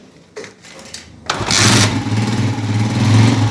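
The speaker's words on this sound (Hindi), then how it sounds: "अभी हम इसको बाइक को स्टार्ट करेंगे" A Honda CG125 petrol motorcycle engine is started with a few soft attempts, then catches with a loud burst and settles into a steady, close, throbbing idle.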